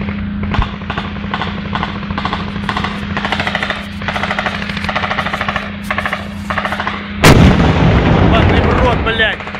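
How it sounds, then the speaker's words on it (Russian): Gunfire in combat near Latyshevo: rapid, rhythmic bursts of automatic fire crackle steadily from nearby for several seconds, then a single much louder, heavier blast booms out and leaves a rumbling roar. "А кто там стреляет?"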